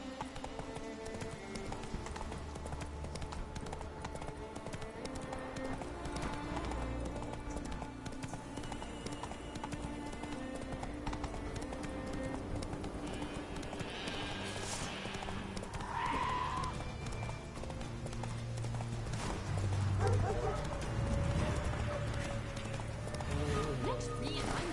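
Roach, the horse in The Witcher 3, gallops with steady rhythmic hoofbeats and a brief whinny, set under game music and spoken dialogue.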